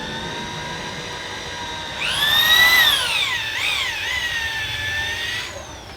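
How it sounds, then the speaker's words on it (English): A power drill whines steadily, then revs up louder with a rising and bending pitch as it bores through large timber for a wooden boat's backbone, before cutting off near the end. "we are drilling by eye"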